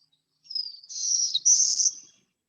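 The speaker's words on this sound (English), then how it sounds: "So if you hear that, be on the lookout for the black-throated blue." A black-throated blue warbler sings a single buzzy, high-pitched phrase of about three rising segments, clear and close, on an otherwise silent recording with no talk.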